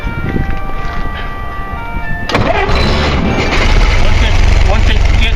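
A 1917 Ford Model T engine catches and starts, shifting from a quiet idle hum into a loud, rough, steady running clatter close by.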